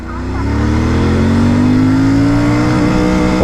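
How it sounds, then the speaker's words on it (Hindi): A 2024 Royal Enfield Interceptor 650 twin accelerates hard in first gear during a top-speed run, its engine note climbing steadily in pitch. The roar is loud and close, with wind rush throughout. "फर्स्ट गियर से स्टार्ट करते हैं, कितना जाती है।"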